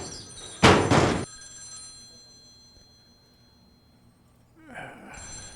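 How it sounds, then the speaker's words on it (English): A telephone rings loudly in The X Files video game on Windows, one bright burst of ringing followed by a quiet stretch and a softer electronic tone near the end. "That's your phone."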